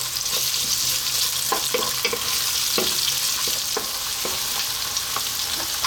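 Onion and garlic sizzle steadily in a hot pan for a Lebanese-style green bean dish. A constant bright frying hiss runs throughout, broken by frequent clicks and scrapes as the pieces are stirred and tossed.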